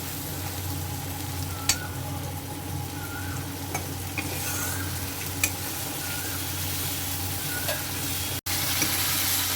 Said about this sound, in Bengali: একটু একটু করে আমি জল দিচ্ছি একটু একটু করে কষছি